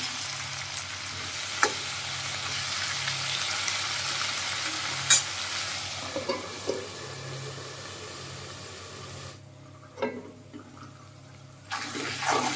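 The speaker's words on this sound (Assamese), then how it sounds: "গেছটো মিডিয়াম ফ্লেমত ৰাখি ধুনীয়াকৈ আকৌ অকণমান সময়ৰ কাৰণে ভাজি ল'ম" Pork and lai greens frying over a medium flame on a gas stove, a steady close sizzle with occasional stirring clinks and scrapes, and no talk.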